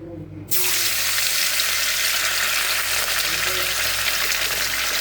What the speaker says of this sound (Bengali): মাছগুলো আমি ভেজে নিই।